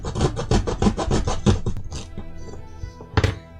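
A half-inch piece of wood harder than balsa is cut with quick back-and-forth rasping strokes, close and fairly loud, followed by a few scraping and knocking handling sounds.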